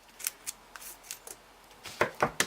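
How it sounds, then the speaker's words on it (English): Scissors snipping open a sanitized yeast package for homebrewed beer, a quick series of close, crisp cuts, faster toward the end. "I'm going to take my scissors and I'll cut that"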